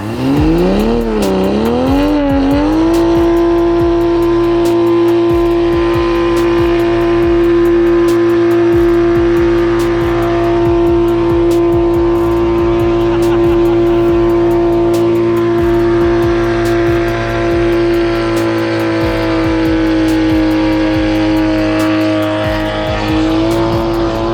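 A V10-powered Toyota Supra race car engine revs loudly up close: a few quick throttle blips rise and fall, then it settles into a sustained, high, droning hold with a rough mechanical edge.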